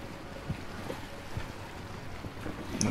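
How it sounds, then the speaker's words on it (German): A sailboat glides over a lake in Assassin's Creed Origins, with a soft, steady rush of water and wind around the hull and faint splashing, and no voices. "Können wir natürlich hier richtig schön Gas geben mit dem Segelboot."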